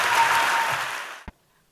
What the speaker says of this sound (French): Merci d'applaudir Stéphane Gaillard